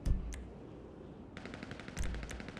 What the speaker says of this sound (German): Oh, wird schon geschossen.